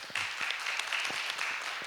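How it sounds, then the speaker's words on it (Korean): A seated audience at a social economy forum in Chuncheon gives a brief round of applause after a panel speaker finishes, a fairly faint, continuous crackle of many hands with a few louder claps standing out. "박수 부탁드립니다"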